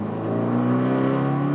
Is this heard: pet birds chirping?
no